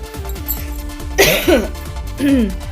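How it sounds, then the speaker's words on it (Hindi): A person gives a couple of rough coughs from smoke in the air, over a steady musical background, with other faint vocal sounds nearby. "कुछ खांसी सी भी आ रही है"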